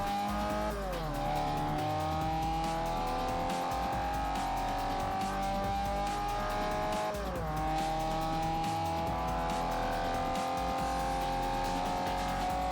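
Car tires squeal in the racing game Forza Motorsport 4 over a steady engine drone. Two long skids rise and bend in pitch, each starting with a sharp onset, and no one speaks.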